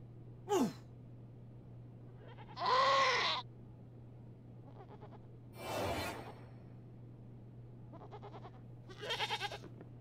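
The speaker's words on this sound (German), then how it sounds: "lässt die Ziege ein zufriedenes Meckern aus" A goat in the video game Wasteland 3 lets out a few contented bleats and sighing breaths, spaced apart over a steady low electrical hum.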